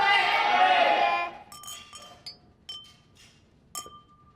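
Glasses clink together during a toast among a group at a drinks gathering: a burst of loud voices, then several light, bright chinks at scattered moments, fairly quiet and close.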